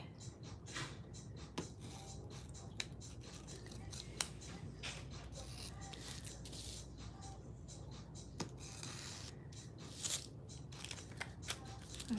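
Scissors snip through an acrylic craft piece, cutting out its center in a run of quiet, close, irregular clicks and crisp cuts over a steady low background hum.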